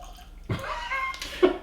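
Port Charlotte heavily peated whisky glugs from a bottle through a ball-bearing pourer in a short burst of liquid gurgling, close and clear, with a brief louder splash near the end.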